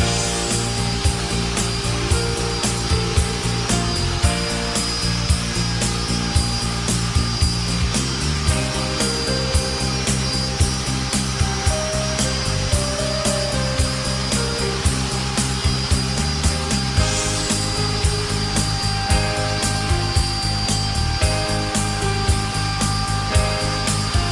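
A router cuts wood steadily while its path traces a template through a pantograph copier, giving a loud, continuous whine with small shifts in pitch and load across the strokes.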